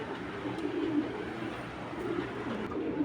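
Soft, low cooing of large racing pigeons repeats throughout, a steady murmur of birds close by with no voices.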